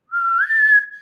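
A person whistles in imitation of a ship's whistle, one sustained, steady tone lasting about a second that rises slightly partway through, close and clear with no other sound.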